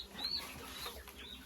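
Leghorn hens in an outdoor enclosure at a country dacha give faint, scattered clucks against a quiet, steady background.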